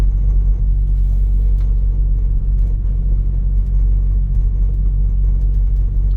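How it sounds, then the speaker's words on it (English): A Subaru Sambar mini truck in fifth gear accelerates, its small engine making a heavy, steady low rumble from inside the cab with faint road and rattle noise above it. "Now I'm going to give it gas, and we're going to gain some speed."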